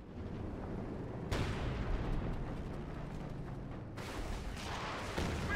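Rocket fire and explosions in the World War II strategy game Company of Heroes 2 on the Road to Arnhem map, with a continuous rumbling battle din broken by two sudden, loud blasts that hang on in a broad roar.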